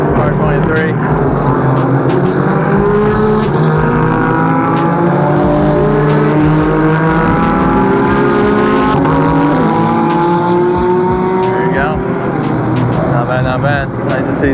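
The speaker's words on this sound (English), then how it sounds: "Car's out on track." A Nissan race car driving on a track, its engine loud and close with steady rising pitch sweeps through the gears and long sustained revs, with people talking faintly beneath.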